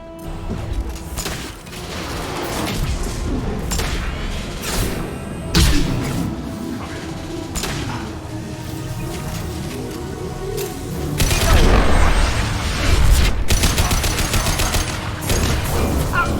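Combat in Mass Effect Legendary Edition, with bursts of gunfire, crashes and mechanical clatter that swell louder toward the end, against a game soundscape without voices.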